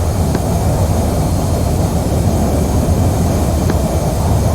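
An F/A-18 jet in the DCS flight simulator, slowing to about 330 knots, gives a loud, steady, dense engine roar that holds evenly throughout with no breaks or talk.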